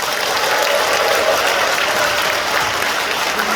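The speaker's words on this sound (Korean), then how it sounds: "윤석열 대통령께 우리 박수 한번 드리시죠" Sustained, dense applause from a seated audience at a political party members' lecture in a civil defense education hall in Gumi, loud and even throughout the short stretch with no voices.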